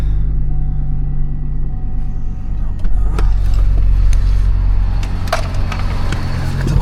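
A Hummer H3 engine runs with a steady low rumbling idle throughout, loud and close, with scattered clicks and knocks on top and faint voices in the background.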